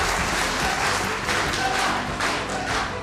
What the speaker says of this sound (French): Après une salve d'applaudissements soutenus